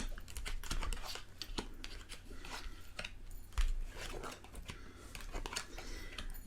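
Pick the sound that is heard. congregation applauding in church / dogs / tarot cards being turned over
tarot cards being turned over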